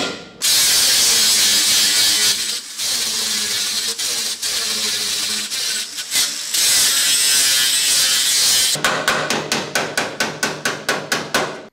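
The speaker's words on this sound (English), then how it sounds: "coat it all in some weld through spray" Long hissing bursts of an aerosol can spraying weld-through primer, loud and close, with brief pauses and a rapid rattling patter near the end.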